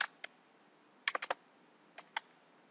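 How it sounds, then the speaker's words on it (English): Typing a command into R on a computer keyboard: a few quiet, close key clicks in small irregular clusters, with a short burst of rapid strokes in the middle, against faint background hiss. "let's check it out by typing the head command and the name of the variable"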